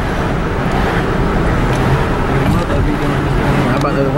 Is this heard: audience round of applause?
no